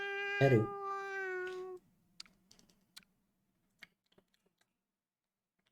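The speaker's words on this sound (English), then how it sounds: "Oh, oop, the cat meowed." A cat meows in a visual novel video game with a long, clear, tonal cry that rises and falls. Soft scattered clicks follow, like typing or mouse clicks, in an otherwise quiet background.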